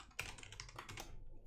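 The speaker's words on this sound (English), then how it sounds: "I'm just typing this in" Rapid clicking keystrokes on a computer keyboard, a quick irregular patter of close taps running continuously with a brief lull near the end.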